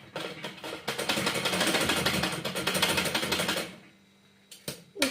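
A sewing machine running steadily while stitching a shirt, a fast even mechanical rattle for several seconds, then stopping, followed by a couple of small handling clicks.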